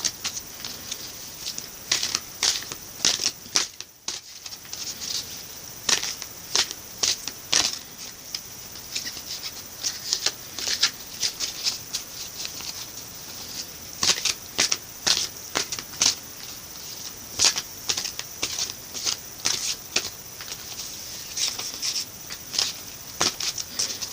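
Sacred Rebels Oracle cards being shuffled by hand in a quiet room, a steady run of soft riffling slaps and papery flutters, close and fairly loud, with a brief pause early on and no talk.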